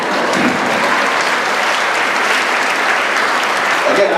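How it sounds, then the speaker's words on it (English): Graduation audience clapping steadily, a dense, loud wash of many hands that holds evenly throughout with no pause. "Yeah, you should clap, Aaron."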